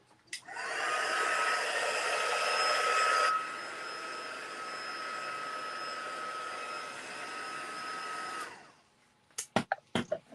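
A scrapbooking heat tool blows with a steady, close whirring hiss for about eight seconds. It drops slightly in level partway through, then cuts off, and a few sharp knocks follow.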